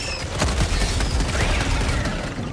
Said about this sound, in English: Someone just shot me.